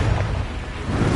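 The Confringo explosion spell from Hogwarts Legacy bursts in a loud, dense, roaring blast that fills the moment, a short close boom with a whooshing tail and no talk.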